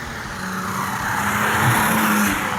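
A twin-turbo diesel BMW accelerating hard past 3,500 RPM with one turbo working gives a loud, steady engine roar that builds slightly across the pull, with no voices.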